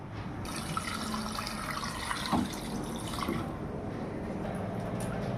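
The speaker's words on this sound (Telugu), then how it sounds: "ఇది రెండవసారి ముక్కలు కడగడం" Tap water running over fish pieces being washed in a sink, a steady close splashing flow with a brief louder splash midway.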